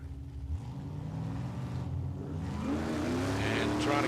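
Two Holden drag cars, one a Commodore and one a Torana, idle and rumble at the start line of a night drag meet, engines throbbing loudly with rising revs toward the end, and a commentator talking over them.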